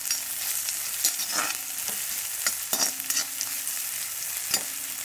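Finely chopped onion fries in hot oil in a pan, a steady sizzle broken by repeated scraping knocks of a spoon stirring the pieces, close and continuous with no talk.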